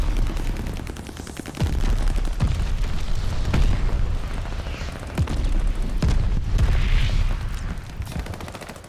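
Glide bomb blasts and gunfire in a Call of Duty: Vanguard multiplayer match on PS5, with heavy booming impacts and rapid shots layered over a constant loud battle din.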